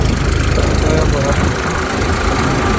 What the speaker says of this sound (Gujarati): જો ટ્રેક્ટર ચાલુ થઈ ગયું